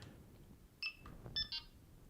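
A Delkim carp-fishing bite alarm gives short electronic tones that step upward as it switches into day mode, a few quiet bleeps over low background hiss.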